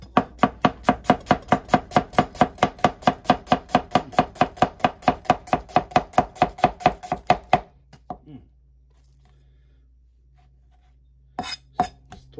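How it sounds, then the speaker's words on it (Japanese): Rapid, even cleaver strokes thinly slice vegetables on a board, around thirty sharp close-up taps in steady rhythm, then a pause and a few final cuts. "じゃあちょっとお味噌汁作るように薄めにスライスしていきたいと思います。"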